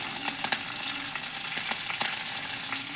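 Urad dal, garlic, ginger, green chilli and curry leaves fry in hot oil for a tempering, a steady close crackling sizzle with scattered sharp pops and spatters.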